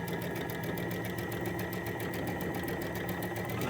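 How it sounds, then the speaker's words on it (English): A sewing machine runs steadily at high speed, its needle stitching fabric for a drawstring backpack in a fast, even mechanical rhythm, close and continuous with no talking. "you can complete this step with the sewing machine"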